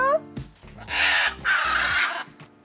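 A parrot gives two harsh, raspy, crow-like calls in response to another bird, loud and close, after a brief human voice at the start.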